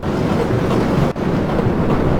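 Subway train leaving Times Square in the World of Subways 4 game, a loud steady rumble of wheels and motors that continues without a break, heard alone.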